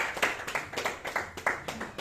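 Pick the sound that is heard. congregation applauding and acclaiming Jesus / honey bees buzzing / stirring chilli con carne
congregation applauding and acclaiming Jesus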